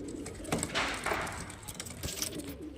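Kalshira and Highflyer pigeons coo together in a low, continuous murmur, with overlapping throaty calls and a few brighter flutters or clicks scattered through.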